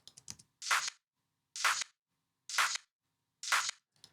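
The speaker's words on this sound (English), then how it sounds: "then I created the pre-shifts to the claps that sound like this" Frequency-shifted clap samples made in Ableton, four sharp bright claps at an even, slow pace with silence between them, a few quick ticks at the start.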